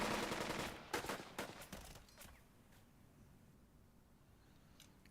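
Bursts of gunfire in the Burden of Command war game, a dense volley in the first two seconds with a few isolated shots after, fading to quiet background ambience.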